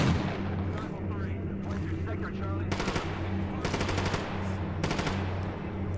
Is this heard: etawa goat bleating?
no